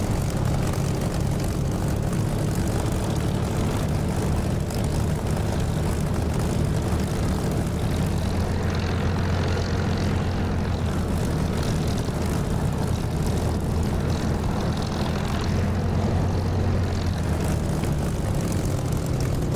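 A Supermarine Spitfire's propeller engine drones loud and continuous during takeoff in the DCS flight simulator, a steady rumbling roar that holds throughout.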